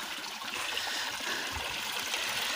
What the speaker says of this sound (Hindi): तो पंप मैंने चला दिया है, ये देखें पानी आ चुका है